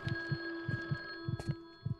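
An old telephone bell rings repeatedly inside a house in the indie horror game The Guest, with sharp paired bursts set against a steady tonal hum and no talking.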